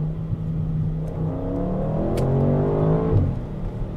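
Audi RS6 C8 estate engine revving in RS mode near a small tunnel, a loud steady drone with rising pitch as it accelerates, heard close throughout.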